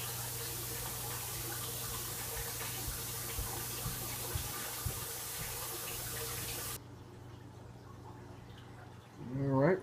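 A 40-gallon freshwater aquarium is refilled with water after a substrate vacuuming, producing a steady wash of running and trickling water for most of the stretch before it quiets, with a brief burst near the end.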